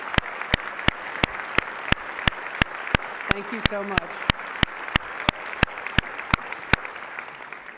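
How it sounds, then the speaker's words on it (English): An audience at a college's State of the College address applauds a student: a continuous bed of crowd clapping with sharp, evenly spaced claps cutting through, while a voice briefly speaks over it. "Let me give you a round of applause."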